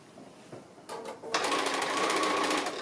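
A sewing machine runs steadily, stitching fabric for a small gift bag. A few brief starts come first, then a loud, continuous, rapid mechanical whir that keeps going to the end, with no talking.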